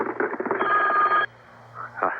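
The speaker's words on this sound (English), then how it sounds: "I think the telephone is ringing" An old-fashioned telephone bell rings steadily for about a second over faint voices in a vintage radio comedy soap-opera sketch, then stops and a voice speaks.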